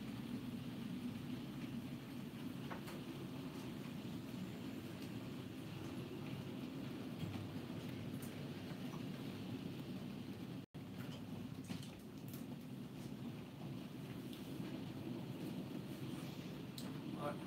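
A model coal train runs along layout track with steady low rumble and faint clicking of wheels, continuous and fairly close throughout.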